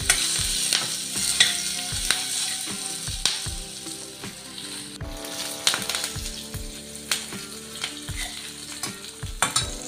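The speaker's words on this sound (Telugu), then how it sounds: "ఇప్పుడు మిగిలిన కరివేపాకు వేసుకుందాం" Curry leaves crackle in hot tempering oil with green and dried red chilies for citron-fruit pulihora, a loud, close sizzle broken by repeated dull spatula knocks against the pan.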